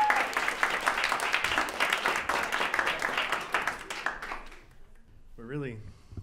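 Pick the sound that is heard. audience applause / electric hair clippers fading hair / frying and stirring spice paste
audience applause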